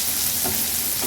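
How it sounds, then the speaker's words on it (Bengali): Onion fries in oil in a pan with a steady, dense sizzle, loud and close, with no talk over it. "এবার এই তেলটুকুর মধ্যেই আমি পেঁয়াজটা দিয়ে দেবো।"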